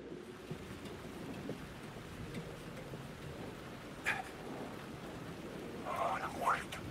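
Rain falls steadily in the video game Alan Wake 2, a continuous soft patter with occasional louder drops, while a voice speaks faintly over it.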